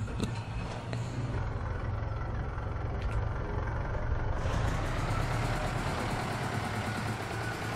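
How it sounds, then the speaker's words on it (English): A 3-cylinder John Deere tractor engine idles in Farming Simulator 17, a steady low, even drone that holds for the whole stretch with no talk over it. "Light up my little 3-cylinder John Deere."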